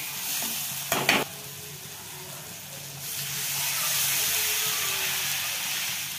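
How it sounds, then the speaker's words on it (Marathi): Onions sautéing in a pan with salt and turmeric for Maharashtrian pitale: a brief burst of scraping stirs near the start, then a steady, close sizzle that swells slightly and carries on alone. "कांदा सगळं चांगलं परतलेलं आहे"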